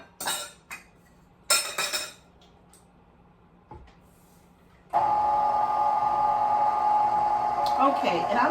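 A few clinks of utensils and bowls come first, then an electric mixer switches on and runs with a steady whirring hum through pineapple pound cake batter for the rest of the clip.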